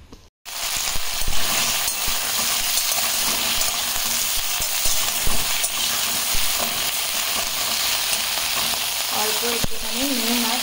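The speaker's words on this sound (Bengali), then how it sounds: "কড়াইয়ে আমি তেল দিয়ে কপিগুলো ভেজে, লাল করে কপিগুলো ভেজে আমি তুলে রেখে দেব।" Cauliflower pieces fry in oil in a wok, giving a loud, continuous sizzle close up with occasional stirring scrapes and no talking.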